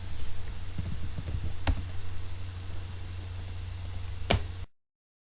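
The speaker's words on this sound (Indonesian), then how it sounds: "Oke, langsung kita ketikkan" Keys clack on a computer keyboard in a steady patter of light taps, with a couple of sharper strikes, close and alone before cutting to silence.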